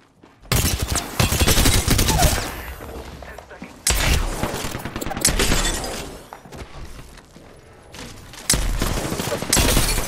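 Rapid bursts of gunfire fill a video game match, loud and close, with automatic fire and sharp impact sounds separated by brief lulls.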